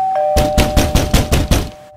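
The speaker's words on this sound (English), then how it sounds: "he keeps spamming the doorbell" A doorbell in a Baby Mario video game chimes rapidly over and over, about seven quick rings in a row on top of a steady tone, then stops.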